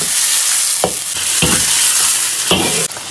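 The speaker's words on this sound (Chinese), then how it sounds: "锅中加油，葱姜蒜爆香，泡好的麻椒干辣椒，再来碗火锅底料，炒香炒花。" Sichuan peppercorns, dried chilies and hotpot base sizzle loudly in an oiled wok, with scraping stirs of the spatula breaking through the constant frying hiss, close up and with no voices.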